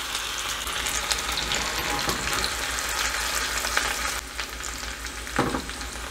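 Chopped onion frying in a pan with potato and roasted salt fish for aloo choka, giving a steady, close sizzle that runs throughout with a few small stirring scrapes and no talking.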